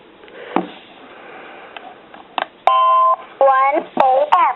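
A Radio Shack 63-913 talking alarm clock gives loud, clear electronic beeps and warbling tones in short bursts as its time is set, after some quiet handling clicks.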